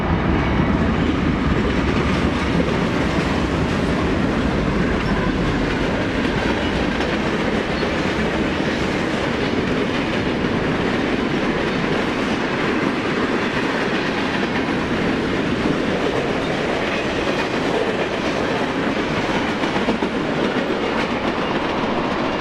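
A Norfolk Southern freight train, number 117, rolls steadily past the Xenia Avenue crossing in Fairborn, a loud, unbroken rumble of railcars with rhythmic clickety-clack from the wheels throughout.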